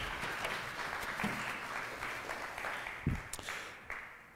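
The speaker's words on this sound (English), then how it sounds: "Round of applause for Beth, everyone." Applause from a church congregation during a Sunday sermon service, a steady broadband patter of clapping throughout at moderate distance, with a few sharper bumps and no clear speech.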